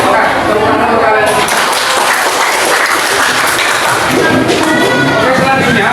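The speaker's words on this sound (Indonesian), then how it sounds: "Oke, tepuk tangan untuk kalian." A classroom of students applauding, a loud, dense and continuous wash of clapping hands nearby for about six seconds, with voices mixed in.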